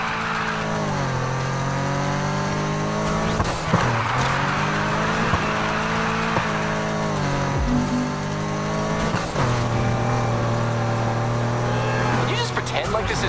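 A BMW M3 in the racing game Need for Speed Heat drives with a loud, continuous engine drone whose pitch rises and falls through gear shifts, with tire noise and a few sharp bursts layered on top.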